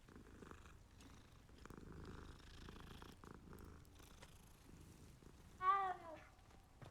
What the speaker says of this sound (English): God, that meow was so bad.